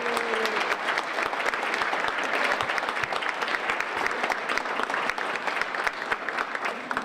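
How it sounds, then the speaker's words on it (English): At a Guilford Rotary senior luncheon, an audience applauds the Rotary Club with dense, steady clapping from a crowded room that holds at a full, even level for several seconds. "So give the Rotary Club a big round of applause"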